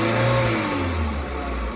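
A 2012 Maruti Suzuki Eeco van engine in clean, smoke-free condition revs up loudly and close by, its drone rising and then easing back slightly over a couple of seconds, with no voices.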